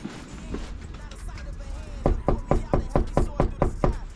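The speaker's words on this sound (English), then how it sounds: "Gotta go knock on the door, though, baby." Knuckles rap on a door in a quick run of about eight sharp, evenly spaced knocks, loud and close, over faint background hum after a few softer taps.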